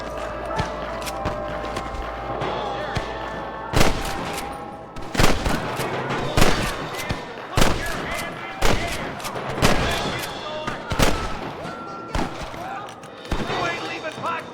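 Gunfire in the Red Dead Redemption Western video game: a string of sharp, loud shots cracks out at irregular intervals, many in quick succession, with game noise running between them.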